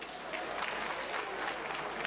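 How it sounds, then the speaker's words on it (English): An audience at the Comedy Store in Uganda breaks into a quick round of clapping during a live stand-up set, faint and distant, with a crowd murmur under it. "clap for yourself."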